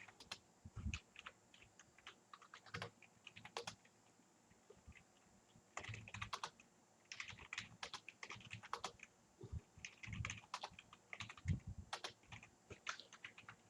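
Typing on a computer keyboard while entering values into an Excel spreadsheet, with irregular bursts of close, light key clicks and short pauses between them, quiet and without talk.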